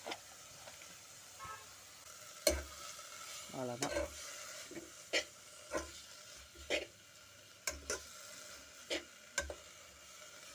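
Soft scraping and stirring of chopped balloon vine and climbing brinjal leaves in a pan with turmeric, a faint sizzle, punctuated by several sharp clinks of a utensil, and a voice briefly speaking.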